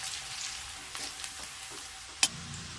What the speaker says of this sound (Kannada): ಆಮೇಲೆ ಈಗ ಮೆಣಸಿನ್ಕಾಯಿ ಹಾಕಿ ಫ್ರೈ ಮಾಡ್ತೀವಿ